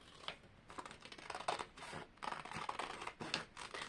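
Dressmaking scissors snip through paper to cut out a star shape, a run of quick close crisp cuts and rustles in an uneven rhythm.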